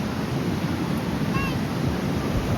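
Steady, roaring wash of ocean surf and wind fills a beach by a seaside café in Malvan, loud and continuous, with no clear voices.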